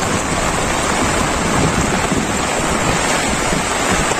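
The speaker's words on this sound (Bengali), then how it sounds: "প্রচুর পরিমাণ বৃষ্টি হচ্ছে, প্রচুর পরিমাণ বৃষ্টি।" Heavy rain pours down while heard from beneath an umbrella, a dense, loud, unbroken roar of drumming water with no pauses.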